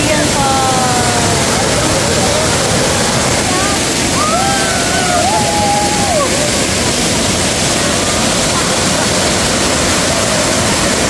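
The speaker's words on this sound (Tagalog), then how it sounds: "Ulingan Falls." Ulingan Falls in Basilan roars loudly and continuously, a dense, unbroken rush of falling water that fills the scene, with faint voices beneath it.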